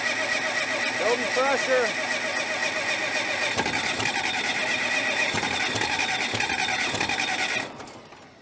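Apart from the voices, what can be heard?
starter cranking Cat D330C diesel generator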